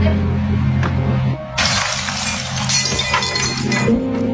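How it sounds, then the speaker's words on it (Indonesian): Window glass shatters loudly after a football is kicked into it by children, a sudden bright crash with tinkling shards sustained over a steady background hum. "tidak sengaja menendang bola tersebut hingga memecahkan kaca jendela"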